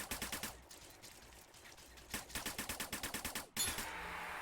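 Rapid bursts of automatic gunfire in a VR shooter gunfight, loud repeated volleys with short pauses between strings of shots and a final heavy blast near the end.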